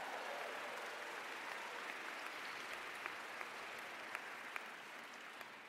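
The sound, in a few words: audience applause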